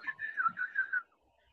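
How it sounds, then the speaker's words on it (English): A bird chirps outdoors through a baby monitor: a short, clear series of about five whistled notes over roughly a second, then quiet. "I hear a bird chirping."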